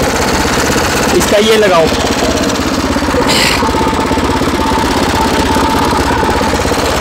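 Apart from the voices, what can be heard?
homemade mini tractor engine running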